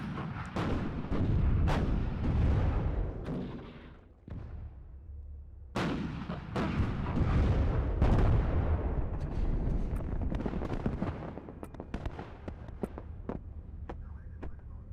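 Rocket artillery in the WARNO war game fires and lands in dense, rumbling barrages with sharp cracks, a long continuous roll of explosions broken by one brief lull.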